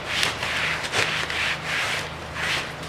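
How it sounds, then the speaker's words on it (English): Cloth rubbing vinyl from the soft top of a 1980 Triumph TR7, cleaned with gun wash silicone-remover solvent: close, rhythmic back-and-forth scrubbing strokes, about five swipes, steady and without talk. "let's clean this piece of vinyl"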